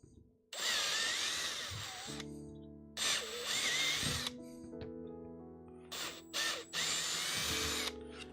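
A power drill bores out parts for a DIY CNC build in several close, loud bursts, whining up and spinning down with short pauses between runs.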